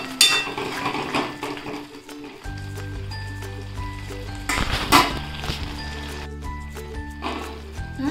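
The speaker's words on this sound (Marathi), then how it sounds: "झाकण ठेवते, आता झाकण काढते आणि हे दूध सगळं त्याच्यात आटवून घेते।" A metal lid is set on and lifted off a pot of carrot halwa (gajar halwa) as milk reduces on a gas stove, giving several close, sharp clinks and clatters spread over a steady low background hum.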